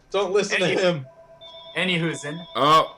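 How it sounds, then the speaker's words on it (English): A mobile phone rings briefly with a steady electronic tone in the pause between bursts of lively conversation, and people talk over it on either side. "that's my phone"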